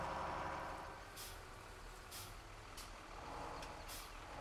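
A virtual truck pulling a trailer in the Farming Simulator 17 game idles and rumbles low and steady, with short hissing bursts at intervals over the continuous engine drone and no talking.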